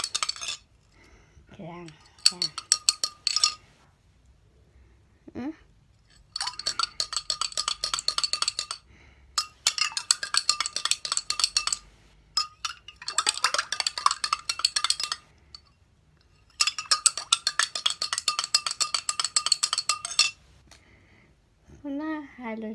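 A metal spoon stirs a glutathione drink mix in a glass, making several long bursts of rapid, bright clinking and scraping against the sides. Short pauses fall between the bursts, and a voice speaks briefly.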